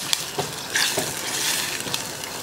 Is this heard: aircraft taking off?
no